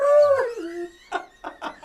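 A dog howls up close into a microphone, a long sliding wail that falls in pitch, followed by several short, breathy yips and whimpers.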